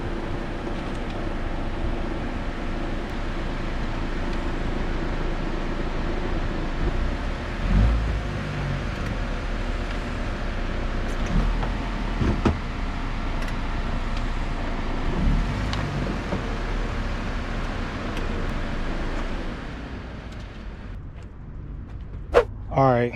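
An idling Jeep engine runs in a steady low rumble, then pulls away as the vehicle starts to move, with a few clunks near the end.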